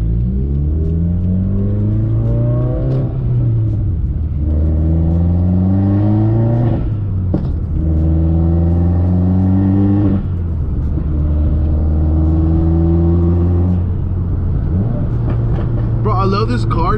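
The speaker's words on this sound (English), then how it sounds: "the turbo noises on this car is just outrageous" A 400+ whp Subaru WRX revs repeatedly in neutral on a street, the engine climbing and falling in steady pulls with turbo whooshes and flutters between them, loud and close throughout.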